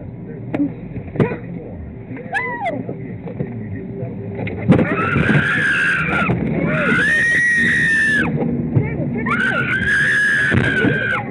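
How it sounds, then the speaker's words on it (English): A woman screams in terror near a car on dashcam audio, her cries rising in high wailing bursts over a steady engine and traffic rumble, with other voices shouting early on. "Her screams tell us how terrified she was"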